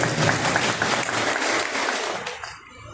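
A birthday gathering's audience breaks into loud, dense applause that holds steady, then thins out and fades away after about two and a half seconds.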